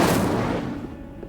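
Incendio fire spell cast in the Hogwarts Legacy video game, a loud, dense burst of roaring, crackling noise that fades over about a second, alone with no talk.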